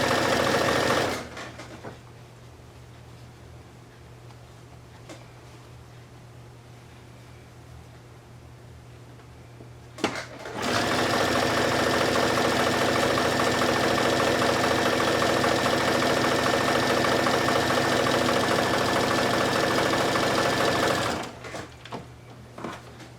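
A sewing machine runs straight stitches along long strips of scrap fabric for a set of coasters, buzzing steadily in two sustained runs with a quiet pause between them, close and loud with no talking.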